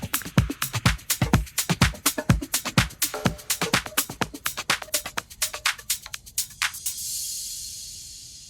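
A house music track's closing section plays with choppy tremolo pulses and sweeping filter automation. Rhythmic hits are steady at first, then thin out, and the tail ends in a bright, sustained wash. No one speaks.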